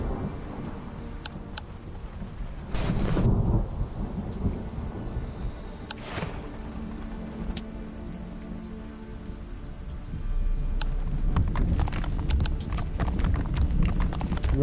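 Steady rain pours throughout a video game thunderstorm, with rumbles of thunder rolling in and swelling louder near the end; no voices.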